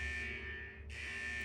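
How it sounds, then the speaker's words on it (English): A vault's central alarm buzzes in the Wuthering Waves video game, a steady, droning electronic tone that dips briefly near the middle and then resumes at full strength, heard alone. "Is that the central alarm of the vault?"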